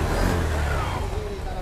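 A 2014 Honda Vision scooter engine idles steadily nearby, a continuous low rumble with a voice speaking over it.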